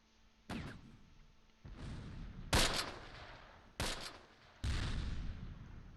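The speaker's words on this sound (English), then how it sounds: "They are mortaring this hillside pretty good" Mortar rounds landing on a hillside in the Close Combat World War II strategy game, several separate sharp blasts with rumbling tails at irregular intervals, loud and near.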